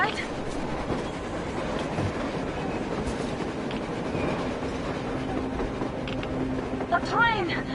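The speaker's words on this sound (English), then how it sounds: "A train! A damn train on the surface!" A train rumbles across the snowy surface in the Metro Exodus video game, a continuous low clatter under howling blizzard wind, with a brief squealing whistle near the end.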